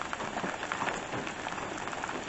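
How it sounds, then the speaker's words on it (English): Heavy rain pours steadily in Washington, a dense, continuous patter drumming on surfaces close by. "This is Hawkeye opening a bottle of wine in the pouring rain in Washington."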